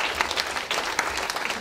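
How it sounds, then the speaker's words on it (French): Audience applause after a talk on food processing and taste perception, a short steady burst of many hands clapping from a seated crowd, even and continuous throughout. "On peut vous applaudir."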